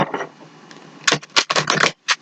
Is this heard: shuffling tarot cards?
yes